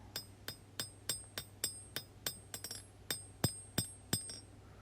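Repeated sharp ringing hammer strikes on hot steel as chef's knife bevels are hand forged, in a steady rhythm of about three blows per second, close and metallic, each with a brief bright ring.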